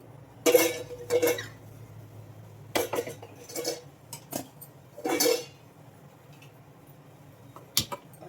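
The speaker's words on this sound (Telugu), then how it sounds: "ఇలా ఒక రెండు నిమిషాలు మూత పెట్టేద్దాం" Metal lids and pots clank in a home kitchen while a Telugu dish simmers: several sharp, separate clinks and clatters spread across the moment over a faint background hum, with a pot lid set down and shifted.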